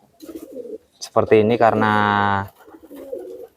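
A pet pigeon coos once, a loud close rolling call in the middle, with someone speaking softly before and after it.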